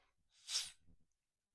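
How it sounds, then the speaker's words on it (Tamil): A single short, soft sneeze bursts out and fades quickly into silence, close by and fairly quiet. "ஒரு நிமிஷம் தும்மல் வர மாதிரி இருக்கும்"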